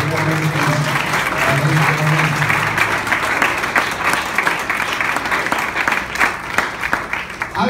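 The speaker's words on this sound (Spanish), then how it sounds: "Un aplauso fuerte para el Señor Jesús." Loud, sustained applause from a church congregation fills the space for several seconds, steady and dense with scattered claps standing out, while a faint voice carries underneath.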